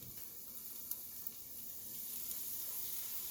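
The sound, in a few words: mushrooms frying in a pan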